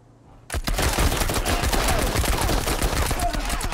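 A PPSh submachine gun in a video game raid opens up after a brief quiet moment and fires in one long, loud, rapid automatic burst that rattles continuously to the end.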